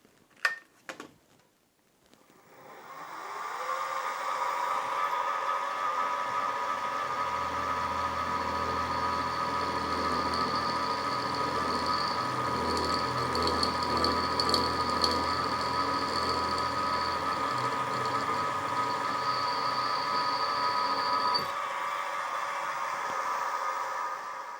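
A small drill bit bores into a metal crankshaft for a Farm Boy hit-and-miss engine, the machine spinning up after a brief clatter and holding a steady, loud whirring hum with a thin high whine for about twenty seconds, no talk.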